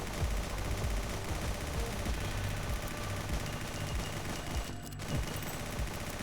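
Dense, continuous gunfire from the video game Nimrods, a rapid stream of repeated shots and bursts holding steady at close range for several seconds, with no talking.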